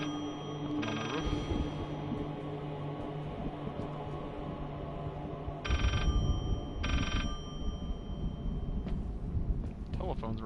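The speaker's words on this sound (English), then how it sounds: "Telephone's ringing." A telephone rings inside a horror video game in repeated, evenly spaced bursts of bright electronic trilling, loud and close over a low windy ambience, with a voice speaking faintly in the background.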